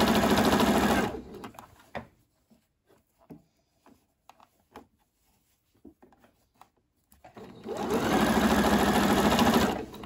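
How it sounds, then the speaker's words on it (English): A sewing machine stitches bias tape onto a bandana dress in two loud, close, continuous whirring runs at the start and end, with quiet fabric handling and light taps in between. "just got to be sure that you're actually sewing the bias tape in place."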